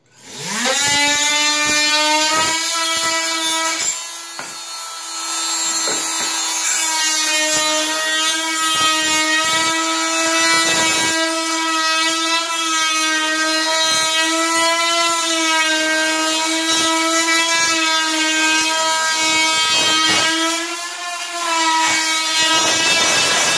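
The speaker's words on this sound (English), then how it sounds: "In this case, we're going to be doing wood all the way through, so I'm just going to cut it all the way through." A flush cut saw works through a wooden door jamb in long, steady, loud rasping strokes with a tonal buzz, nearly continuous with brief pauses.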